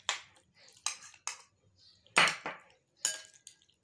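Chicken hearts being mixed with egg and spices in a bowl give scattered short clinks and wet scrapes with pauses between them, close and moderately loud, and no voices.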